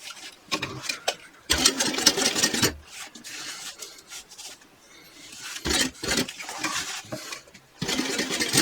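Sewing machine stitching along a bag seam and past its zipper pulls, heard in several bursts of rapid mechanical stitching separated by short pauses, fairly close and with no talking.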